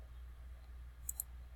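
A computer mouse gives two quick, sharp clicks in close succession, faint over a steady low hum.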